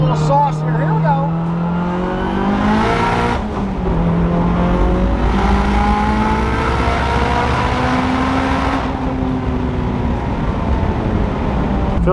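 An 800 HP Mitsubishi Evo 9 with a dog box gearbox makes a hard pull, its engine revving up through several sharp gear changes, with loud climbing tones and brief breaks between shifts, close and dominant.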